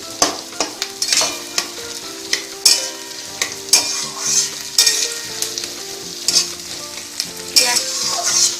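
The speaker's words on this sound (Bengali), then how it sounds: "পেঁয়াজটা 2 মিনিট ভাজবো।" Onions frying in hot oil for a tadka crackle and sizzle steadily up close, with repeated sharp clinks and scrapes of a spoon stirring the pan.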